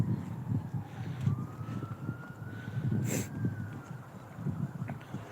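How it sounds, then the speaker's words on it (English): A siren wails steadily in the distance, its tone sliding slowly upward, over a constant rumble of traffic and wind. "I don't like those sirens."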